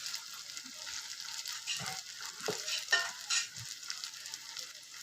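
Spice mixture of turmeric, coriander powder, garam masala, asafoetida and chilli masala sautéing on a low flame for a quick brinjal curry, a steady soft sizzle with a few light spoon scrapes, no talking.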